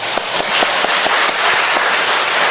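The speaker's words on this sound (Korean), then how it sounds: "여러분 다시 한번 격려의 박수 할까요?" A church congregation applauds a choir after its hymn, with loud, dense clapping from many hands and a few sharper individual claps standing out in an irregular rhythm.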